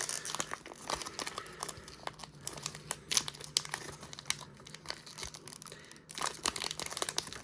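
Crinkling and tearing of wax-paper wrappers on late-1980s and early-1990s Topps baseball card packs, a busy stream of close crackles and rips with brief pauses, no talking.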